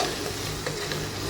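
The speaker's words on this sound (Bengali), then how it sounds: "মশলাটা কষিয়ে নেব।" Ginger, garlic and cumin paste fries in a pan for a prawn and bottle gourd curry, giving a steady broadband sizzle with a few soft stirring scrapes, close and continuous with no talking.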